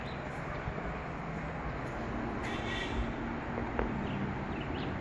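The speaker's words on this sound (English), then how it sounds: "Mad bird." Crow caws ring out several times at a moderate distance over a steady outdoor background hum, with no one speaking.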